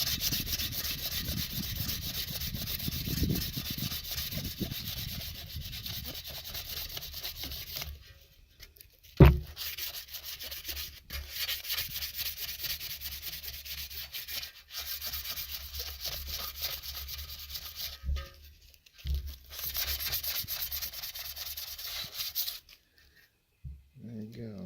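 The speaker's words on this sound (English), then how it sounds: "Sandpaper." Sandpaper rubs back and forth across a Ford F150 rear differential gasket surface, a steady close scraping that continues for a long stretch with a few brief pauses and one sharp knock.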